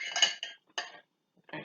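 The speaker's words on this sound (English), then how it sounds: "I'm going to take my meat forks here and take this beautiful roast out of this pot" Metal meat forks clatter against a slow cooker pot while a three-pound pot roast is lifted out, a few short clinks and scrapes separated by brief silences.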